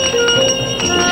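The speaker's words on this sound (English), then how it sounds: "The welcoming music and finger chimes of the belly dancer mark the beginning of this most unusual" A belly dancer's finger chimes ring in quick bright metallic strikes, several clear tings sounding close and loud, with sustained shimmering tones decaying between them.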